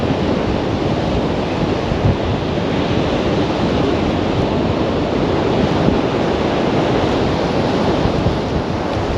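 Strong wind on the coast at Kilnsea in the UK while sea fishing, a constant loud roar of wind buffeting the microphone mixed with surf, steady and unbroken throughout.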